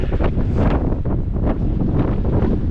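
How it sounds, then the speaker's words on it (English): Strong wind buffets the microphone outdoors in a loud, continuous rumbling roar with gusty surges and no pauses. "The wind's pretty kicked up pretty good."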